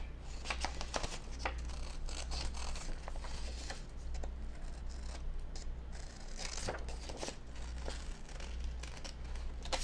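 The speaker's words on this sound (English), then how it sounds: "just very roughly fussy cut around her." Scissors cut roughly around a paper collage image, making close, crisp snips and faint paper rustling in irregular bursts, with no talking.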